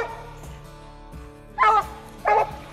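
A female Bluetick Coonhound bays at a treed raccoon during a night coon hunt, giving two loud, drawn-out bawling barks over a quieter background whine.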